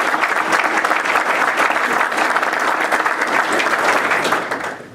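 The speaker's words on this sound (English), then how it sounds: "Give Tony Lucas a round of applause." A room full of people at a Rockdale County, Georgia civic gathering gives loud, dense, sustained applause for a city manager, an unbroken wash of clapping that tapers off at the end.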